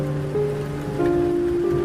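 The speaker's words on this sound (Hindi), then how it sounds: "बारिश अब और भी तेज हो चुकी थी। बादल बहुत जोर से गरज रहे थे।" Heavy rain falls steadily around a ruined building at night, a dense continuous patter with a low tonal hum underneath; no distinct thunderclap stands out.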